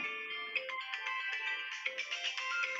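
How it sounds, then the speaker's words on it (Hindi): A mobile phone plays a melodic electronic ringtone at steady volume, heard indoors during a yoga and meditation session, with no talking over it. "अपना किसका फोन आ रहा है, थोड़ा म्यूट कीजिए।"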